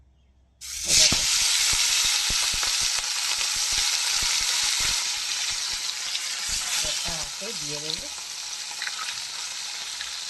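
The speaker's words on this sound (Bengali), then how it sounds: "এবার এই যে নুন হলুদ মাখানো মাছ, পোয়া ভোলা মাছ এবার কড়াইতে আস্তে আস্তে ছাড়বো" Fish coated in salt and turmeric, a poya bhola fish, slides into hot oil in a small wok and bursts into a loud, sustained sizzle, with crackles and a short spoken remark partway through.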